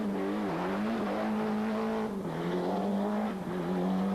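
A Ford Escort Cosworth rally car at the 1994 Rallye des Hautes Fagnes drives hard on a stage. The engine drones steadily and loudly with a rising and falling pitch through gear changes, and there is no talk.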